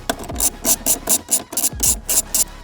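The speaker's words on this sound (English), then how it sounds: "Let's go ahead and remove those." A 10mm ratchet and socket remove bolts on a Toyota Tacoma, sounding as about ten loud, close, evenly spaced rasping clicks in two quick runs with a short break between.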